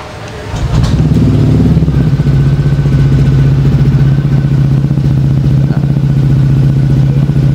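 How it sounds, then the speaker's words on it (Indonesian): An Aprilia SR GT 200 scooter fitted with a Prospeed racing exhaust idles after starting, a loud, steady low burble that holds evenly throughout. "Ini untuk suara knalpot di idle tanpa kita geber ya, idle bawah."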